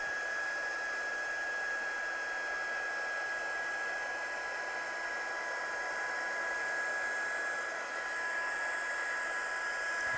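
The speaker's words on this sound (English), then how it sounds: "I'm just going to dry that now with my gun" A heat gun blows steadily over freshly stamped craft card, a continuous loud whooshing hiss with a faint whine that holds for about ten seconds.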